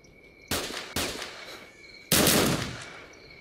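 Three sharp bursts of rapid gunfire from a Groza assault rifle in the video game S.T.A.L.K.E.R., the last one longest, with a steady electronic tone humming underneath between shots.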